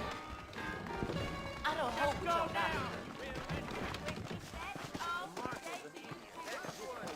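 Horse hooves clip-clopping in Red Dead Redemption, rhythmic and close, mixed with game dialogue and a player talking over them.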